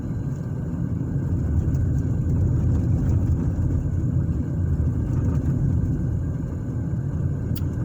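A car driving through residential streets of northwest Indianapolis near North 64th Street, a steady low engine and road rumble heard from inside the vehicle, continuous and even without talk.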